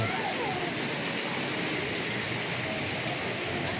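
Heavy monsoon rain pours down in Surat, a loud, steady broadband roar that stays unbroken from start to finish, with possible faint voices beneath it.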